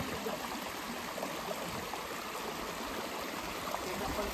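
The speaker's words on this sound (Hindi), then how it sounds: "यहाँ हो रहा है दो नदियों का संगम।" Rushing river water where two rivers meet at a confluence on a hiking trail near Kajligarh fort outside Indore, a steady broadband flow close by with no breaks.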